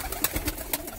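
Rajshahi Giribaz pigeons coo softly inside a loft, a few brief, throaty coos in quick succession, fairly quiet and close, with no one talking.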